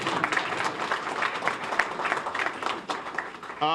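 Audience applause at a ribbon-cutting ceremony for the Weingart Center in Los Angeles, a steady wash of many hands clapping for about four seconds before it cuts off.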